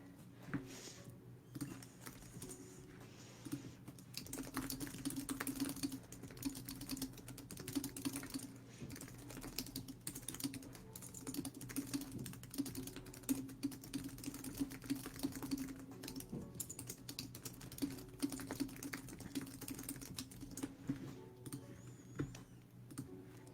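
Computer keyboard keys clack in quick, irregular bursts while a short message is typed, faint and close over a steady low hum, with no talking.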